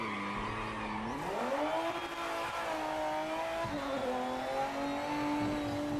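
Racing-game engine note of a Lister Storm race car rising through the revs, a continuous loud tone climbing and holding with slight gear-change dips, no voices over it.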